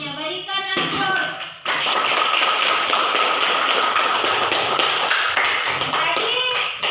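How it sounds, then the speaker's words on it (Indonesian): A third-grade classroom breaks into applause: after a short stretch of talk, a dense burst of children clapping runs for about five seconds, then tapers off. "Berikan aplaus."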